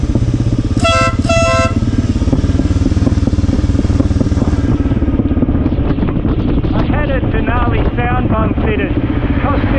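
A motorcycle horn tuned to sound like a truck horn blasts twice, short and loud, over the steady drone of the motorcycle engine on a mountain road in Nepal, with wind buffeting the microphone and a voice talking afterward.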